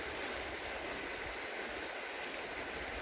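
Creek water flowing on state land, a steady broadband rushing and babbling that holds evenly throughout, moderately quiet with no talking.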